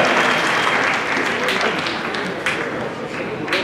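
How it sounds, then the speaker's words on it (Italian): An audience at a Trofeo Luxardo team sabre fencing final applauds loudly and steadily, a dense wash of clapping that swells slightly near the end. "Facciamo un applauso ai due."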